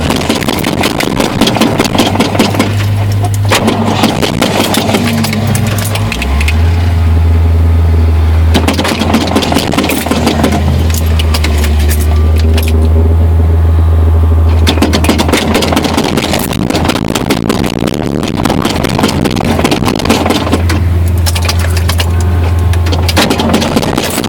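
A Ford Ranger with a 302 engine cold-starts and runs loud and close, its rough idle rising and falling in revs as the throttle is pumped.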